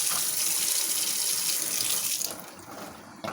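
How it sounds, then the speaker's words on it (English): Water rushes steadily through a newly installed Leveluk SD501 Kangen water machine filter for a few seconds, a continuous close hiss that tapers off near the end, with no talking. "I'll let it run for a few seconds"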